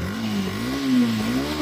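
Yamaha FZS V2 motorcycle with about 14,000 km on it, its engine idling close by with a steady hum that rises and falls in short revs.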